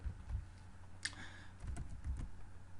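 Someone typing on a computer keyboard in a quiet room. The keystrokes come in a few short bursts of clicks over a low background hum, with no one speaking.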